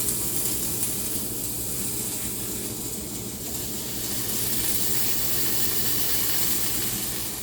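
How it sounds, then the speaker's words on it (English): Potatoes sizzle on a preheated grill in a steady, dense, hissing crackle that holds at an even level throughout, with no talking. "If your grill has been preheated, you can hear that sizzling."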